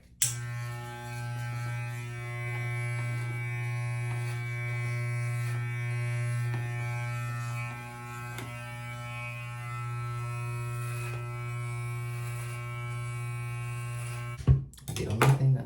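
Electric hair clippers with a number 7 guard run on the neck, producing a loud, steady close buzzing hum that cuts off abruptly near the end with a brief clatter.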